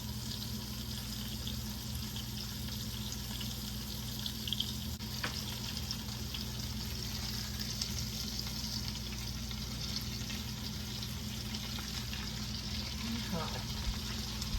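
Food frying steadily in a pan while ingredients are cooked for a cheap home meal, a continuous dense sizzle with light stirring and clatter throughout, no voice over it.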